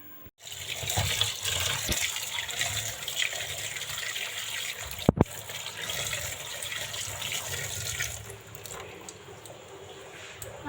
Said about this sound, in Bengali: ইলিশ মাছগুলো ভালো করে ধুয়ে নেব